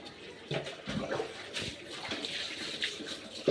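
Water splashes and runs in bursts as dogs are bathed, the sloshing and pouring sounds irregular and fairly quiet, with brief louder gushes.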